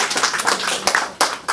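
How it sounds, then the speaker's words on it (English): Audience clapping at a business presentation in Kenya, a short burst of uneven handclaps with a few sharp accents near the end. "Please let's give her a round of applause."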